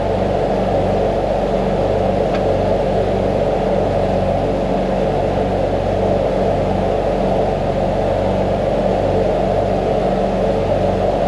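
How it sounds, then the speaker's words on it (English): A small hydraulic motor driving the knees of a sawmill carriage hums and rumbles steadily and loudly throughout, with a faint pulsing low throb underneath. "basically that little hydraulic motor right here, every time I run the knees in and out or set it, that's the little motor that does all the work"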